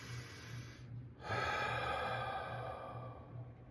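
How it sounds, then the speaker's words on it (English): One deep breath taken near the microphone: a short pause, then a long, steady rush of air that fades slowly, alone with no speech. "Just take a deep breath."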